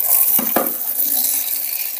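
A water tap runs during aquarium cleaning, a bright, steady splashing rush that stays loud throughout, with two quick knocks near the start.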